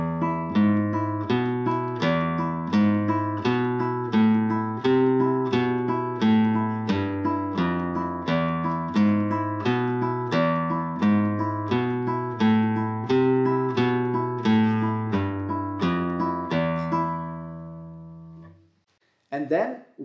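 A plucked flamenco guitar plays a repeating Malagueña melody over a steady low thumbed bass, notes evenly spaced, then it rings out and stops near the end.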